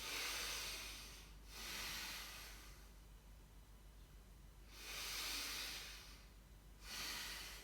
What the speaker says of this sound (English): Mouth closed, strong breath.